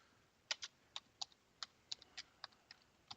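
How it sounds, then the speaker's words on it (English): Bursts of typing on a computer keyboard in a podcast studio, about a dozen crisp, uneven keystrokes close by at a low level, with no talk over them. "Sorry about the keyboard noise there"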